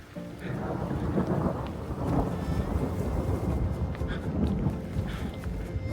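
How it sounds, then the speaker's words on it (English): Steady rain with rolling thunder on a Mount Kailash trek, a continuous broadband wash with deeper rumbles swelling through, no talking. "but again it starts to rain"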